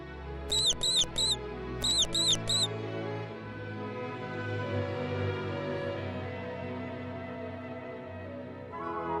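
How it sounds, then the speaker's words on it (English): A mouse gives two quick bursts of three high, sharp squeaks each, over a soft, steady musical background that continues after the squeaks stop. "The mouse says squeak squeak."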